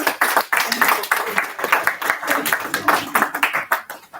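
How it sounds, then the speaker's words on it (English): An audience claps to welcome a speaker to the stage at a student orientation event, a dense burst of clapping that holds steady for about four seconds and then tails off, with some voices mixed in. "Please, with a round of applause."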